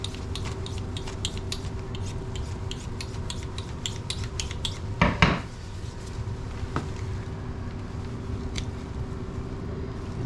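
Quick repeated scraping strokes of a knife being sharpened on a steel while deboning a beaver, rapid light metallic rasps with a brief louder rub midway.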